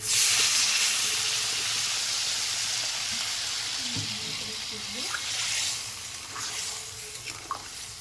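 Water poured into a hot pan of spiced potatoes and egg curry, bursting into a loud steamy hiss that slowly settles into simmering bubbles with a few light clinks.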